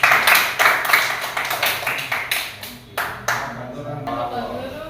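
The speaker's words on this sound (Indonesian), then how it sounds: "tepuk tangan buat mereka dulu" A group in a classroom claps for a presenting student team, a run of sharp overlapping hand claps that fades out after a few seconds, with voices murmuring underneath.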